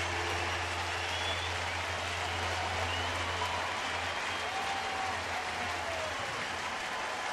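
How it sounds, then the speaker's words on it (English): A baseball crowd at a Minnesota at St. Louis game on June 28, 2009 stands and applauds a diving catch in left field, a steady, dense wash of distant clapping and crowd roar with a low hum underneath, no voices over it. "They're standing and applauding that one."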